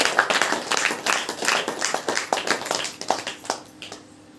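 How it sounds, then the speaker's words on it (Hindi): A church congregation at a Hindi-language Saturday worship meeting claps hands in a fairly steady rhythm, a run of sharp claps that fades near the end, with faint voices underneath. "ताली बजाकर परमेश्वर को"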